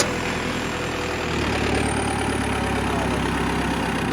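A tractor engine runs steadily at close range, a continuous low mechanical drone with a rougher, louder stretch partway through; it is a tractor suffering a broken spring and fault that sends up smoke and flames from the exhaust.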